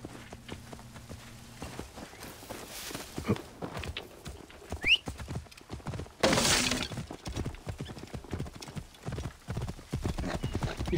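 Horse hooves clip-clop steadily through a long stretch of Assassin's Creed Origins gameplay, with a brief crash and a whinny around the middle. Faint game ambience sits underneath, and no one talks.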